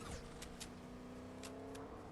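Car engine from a Fortnite match, a steady motor drone with a rising rev and a few sharp transient clicks, moderately loud throughout with no talking.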